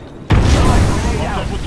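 A frag grenade detonates in the video game Apex Legends: one sudden, loud, close boom with a deep low-end thump, followed by a sustained rumbling, crackling tail that fades only slightly.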